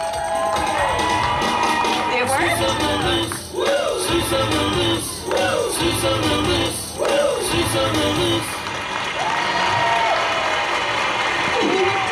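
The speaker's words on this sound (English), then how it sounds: "Everyone, cheer to make them come back. Cheer!" A theme park audience at an outdoor show at Universal Islands of Adventure cheers and applauds continuously, a dense crowd roar with whoops and yells throughout, and a voice speaks over it at times.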